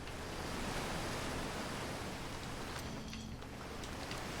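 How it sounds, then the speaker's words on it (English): A loud waterfall in the Outer Wilds video game roars as a dense, steady rush of falling water, filling the whole clip at an even volume with no voices. "That waterfall is quite loud."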